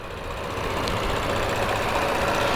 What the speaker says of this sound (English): Here's a newer V6 engine.